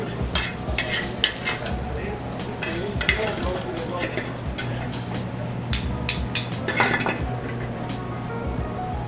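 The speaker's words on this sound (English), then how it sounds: "let that just sweat up, and you'll infuse that oil and the flavor in the pan with that garlic" Crushed garlic sizzles steadily in hot oil in a restaurant pan, a continuous close frying hiss broken by light clinks of utensils and pans, with faint kitchen voices in the background.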